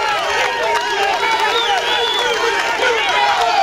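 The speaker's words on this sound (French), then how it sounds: "Applaudissez s'il vous plaît." A crowd at a strongman championship in Martinique applauds and cheers amid a loud, steady wash of voices and whistling, dense and continuous throughout.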